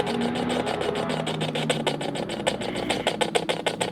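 Motorcycles rumble past outside a castle during a night-time paranormal investigation, a steady engine drone with pulsing revs that lingers throughout, fairly close and loud.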